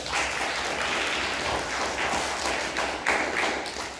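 A debate competition audience claps together for several seconds, a dense patter of hands with slight swells, heard from within the room.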